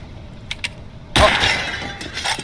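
Glass shatters in the video game Nocturnals: a sudden loud crash at about the midpoint, followed by a scatter of tinkling shards that fades over the next second, with faint clicks before it.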